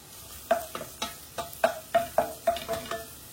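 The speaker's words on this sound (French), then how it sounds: "On met notre échalote. On va la laisser suer un petit peu." Finely chopped shallot sweating in a hot pan, a soft sizzle under a run of about a dozen quick, rhythmic stirring scrapes, close and clear.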